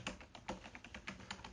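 Soft, quick clicking of a computer keyboard during typing. About a dozen light keystrokes come in an uneven rhythm, close but faint, with no talking.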